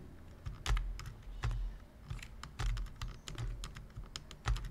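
Close computer keyboard typing of authentication letters on a login form: a quick burst of distinct key clicks in uneven rhythm, alone in a quiet room.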